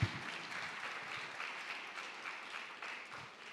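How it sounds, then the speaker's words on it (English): A TEDx youth event audience applauds, a broad steady wash of clapping that starts at full strength and holds evenly for a few seconds, gradually thinning toward the end. "Please give a loud, loud round of applause."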